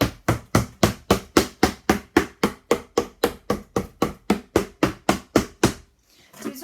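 A spoon strikes a cardboard box forcefully in a fast, regular run of nearly twenty loud, hollow thuds close by, then the hits stop and near silence follows.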